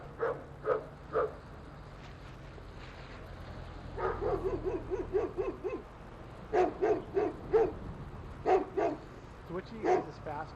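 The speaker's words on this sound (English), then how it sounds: "He's a rabid dog." A dog barks in repeated short bursts at close range, some barks in quick clusters, with people talking and background noise between them; the dog may be rabid and foaming at the mouth.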